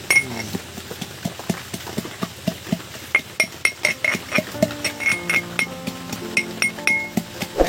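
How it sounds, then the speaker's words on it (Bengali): Chopped ginger and garlic pounded together while making chicken pakora: a regular series of close metallic knocks and clinks, steady in rhythm and growing slightly busier, with no talking. "আদা রসুন, হ্যাঁ, একসঙ্গে এটা একটু থেঁতো করে নেবো"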